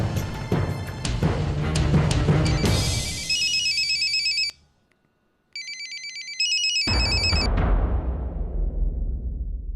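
A phone ringtone plays loudly in repeated melodic bursts, cutting out briefly before resuming and then fading away.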